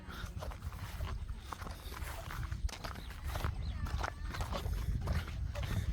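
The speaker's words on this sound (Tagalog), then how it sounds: "Laki ng kalabaw." A big carabao, or water buffalo, walks on a rural path in Gabaldon, Nueva Ecija, its hooves thudding in an uneven clopping rhythm, close by, amid outdoor noise.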